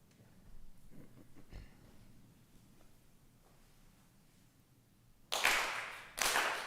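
Ritual hand claps at a Konko memorial service ring out near the end, loud and reverberant in a hall, following a long quiet stretch; two broad bursts are visible, so the full set of four may run together or fall partly outside the excerpt.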